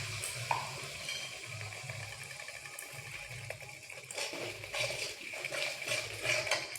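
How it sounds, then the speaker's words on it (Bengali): Chana paneer masala sizzles and crackles in a pan while a spoon stirs and sautés it with spices and salt, a steady, faint frying hiss with soft scraping throughout. "সামান্য অল্প একটু লবণ দিয়ে খুব ভালোভাবে কষিয়ে দিচ্ছি"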